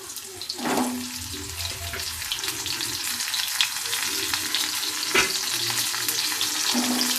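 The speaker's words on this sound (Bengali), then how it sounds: "এবার এই তেলের মধ্যে আমি এই পটলগুলোকে আস্তে আস্তে ভাজতে দেবো।" Sliced pointed gourd fries in hot oil in a small wok, giving a continuous close sizzle with occasional sharper spits and stirring noises.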